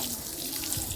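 Water pouring steadily, a continuous splashing rush at moderate distance with no pauses and no speech.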